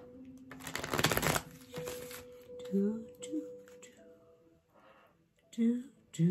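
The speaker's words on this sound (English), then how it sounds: "Two more shuffles." A quick riffle of shuffled tarot cards near the start, followed by a few soft taps and muffled handling sounds against a quiet room.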